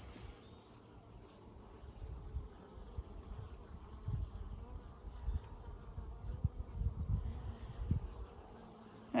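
Honey bees buzz in a steady, close drone during a mid-summer hive inspection of a colony whose queen may be failing, with a faint constant high hiss above.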